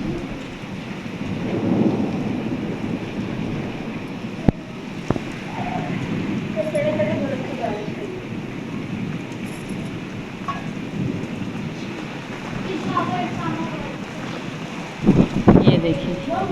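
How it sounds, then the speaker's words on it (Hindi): Heavy rain lashes down in a strong windstorm, a dense, steady roar of pouring water and gusting air that continues throughout, with a few sharp clattering knocks near the end. "हवा भी तेज़ है और बारिश भी तेज़ है"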